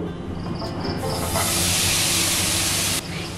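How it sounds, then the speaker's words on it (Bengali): Grated bottle gourd hits a hot pan on a gas stove and sets off a loud, broad sizzling hiss that holds steady, then abruptly drops back near the end. "এবার কড়াইয়ের মধ্যে দিয়ে দিচ্ছি গ্রেট করা লাউয়ের টুকরোগুলো।"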